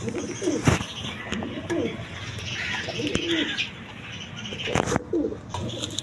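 A male pigeon coos in low, repeated rolling calls at close range, with faint background chatter and a few sharp knocks mixed in.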